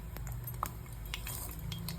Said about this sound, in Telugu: ఫస్ట్ వేసిన పప్పులు వేసుకొని కాసేపు తిప్పనివ్వాలి